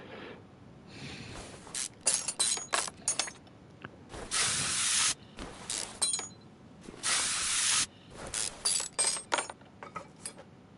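Spray painting a car body: repeated hissing bursts of spray, several long sustained blasts and shorter spurts, close and moderately loud, with faint clinks between them and no talk.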